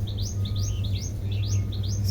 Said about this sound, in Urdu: یہ پودوں پہ بیٹھی جو پرندے ہیں، چڑیاں، ان کی آوازیں